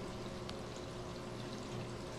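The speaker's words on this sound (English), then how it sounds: "shows the bubble swarm action inside of the cone." Water bubbles and churns inside a trade-show model of an ECO2 Speece cone superoxygenation system, a steady, faint pouring-and-rushing wash with no talk.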